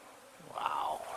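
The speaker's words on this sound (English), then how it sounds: "Hear them bees?" A bee buzzes close by for a moment, a brief rising hum that swells and fades over faint background noise.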